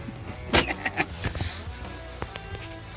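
Power windows motor down on both sides of a pillarless coupe with a 4-speed and gold wheels, a short whirring run with clicks and light knocks from the door glass, close and moderately loud.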